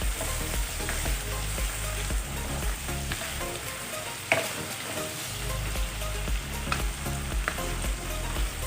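Goat meat sizzles steadily in a hot pan with soy sauce and black pepper, a continuous close frying hiss broken by a few scrapes of stirring, with no voices.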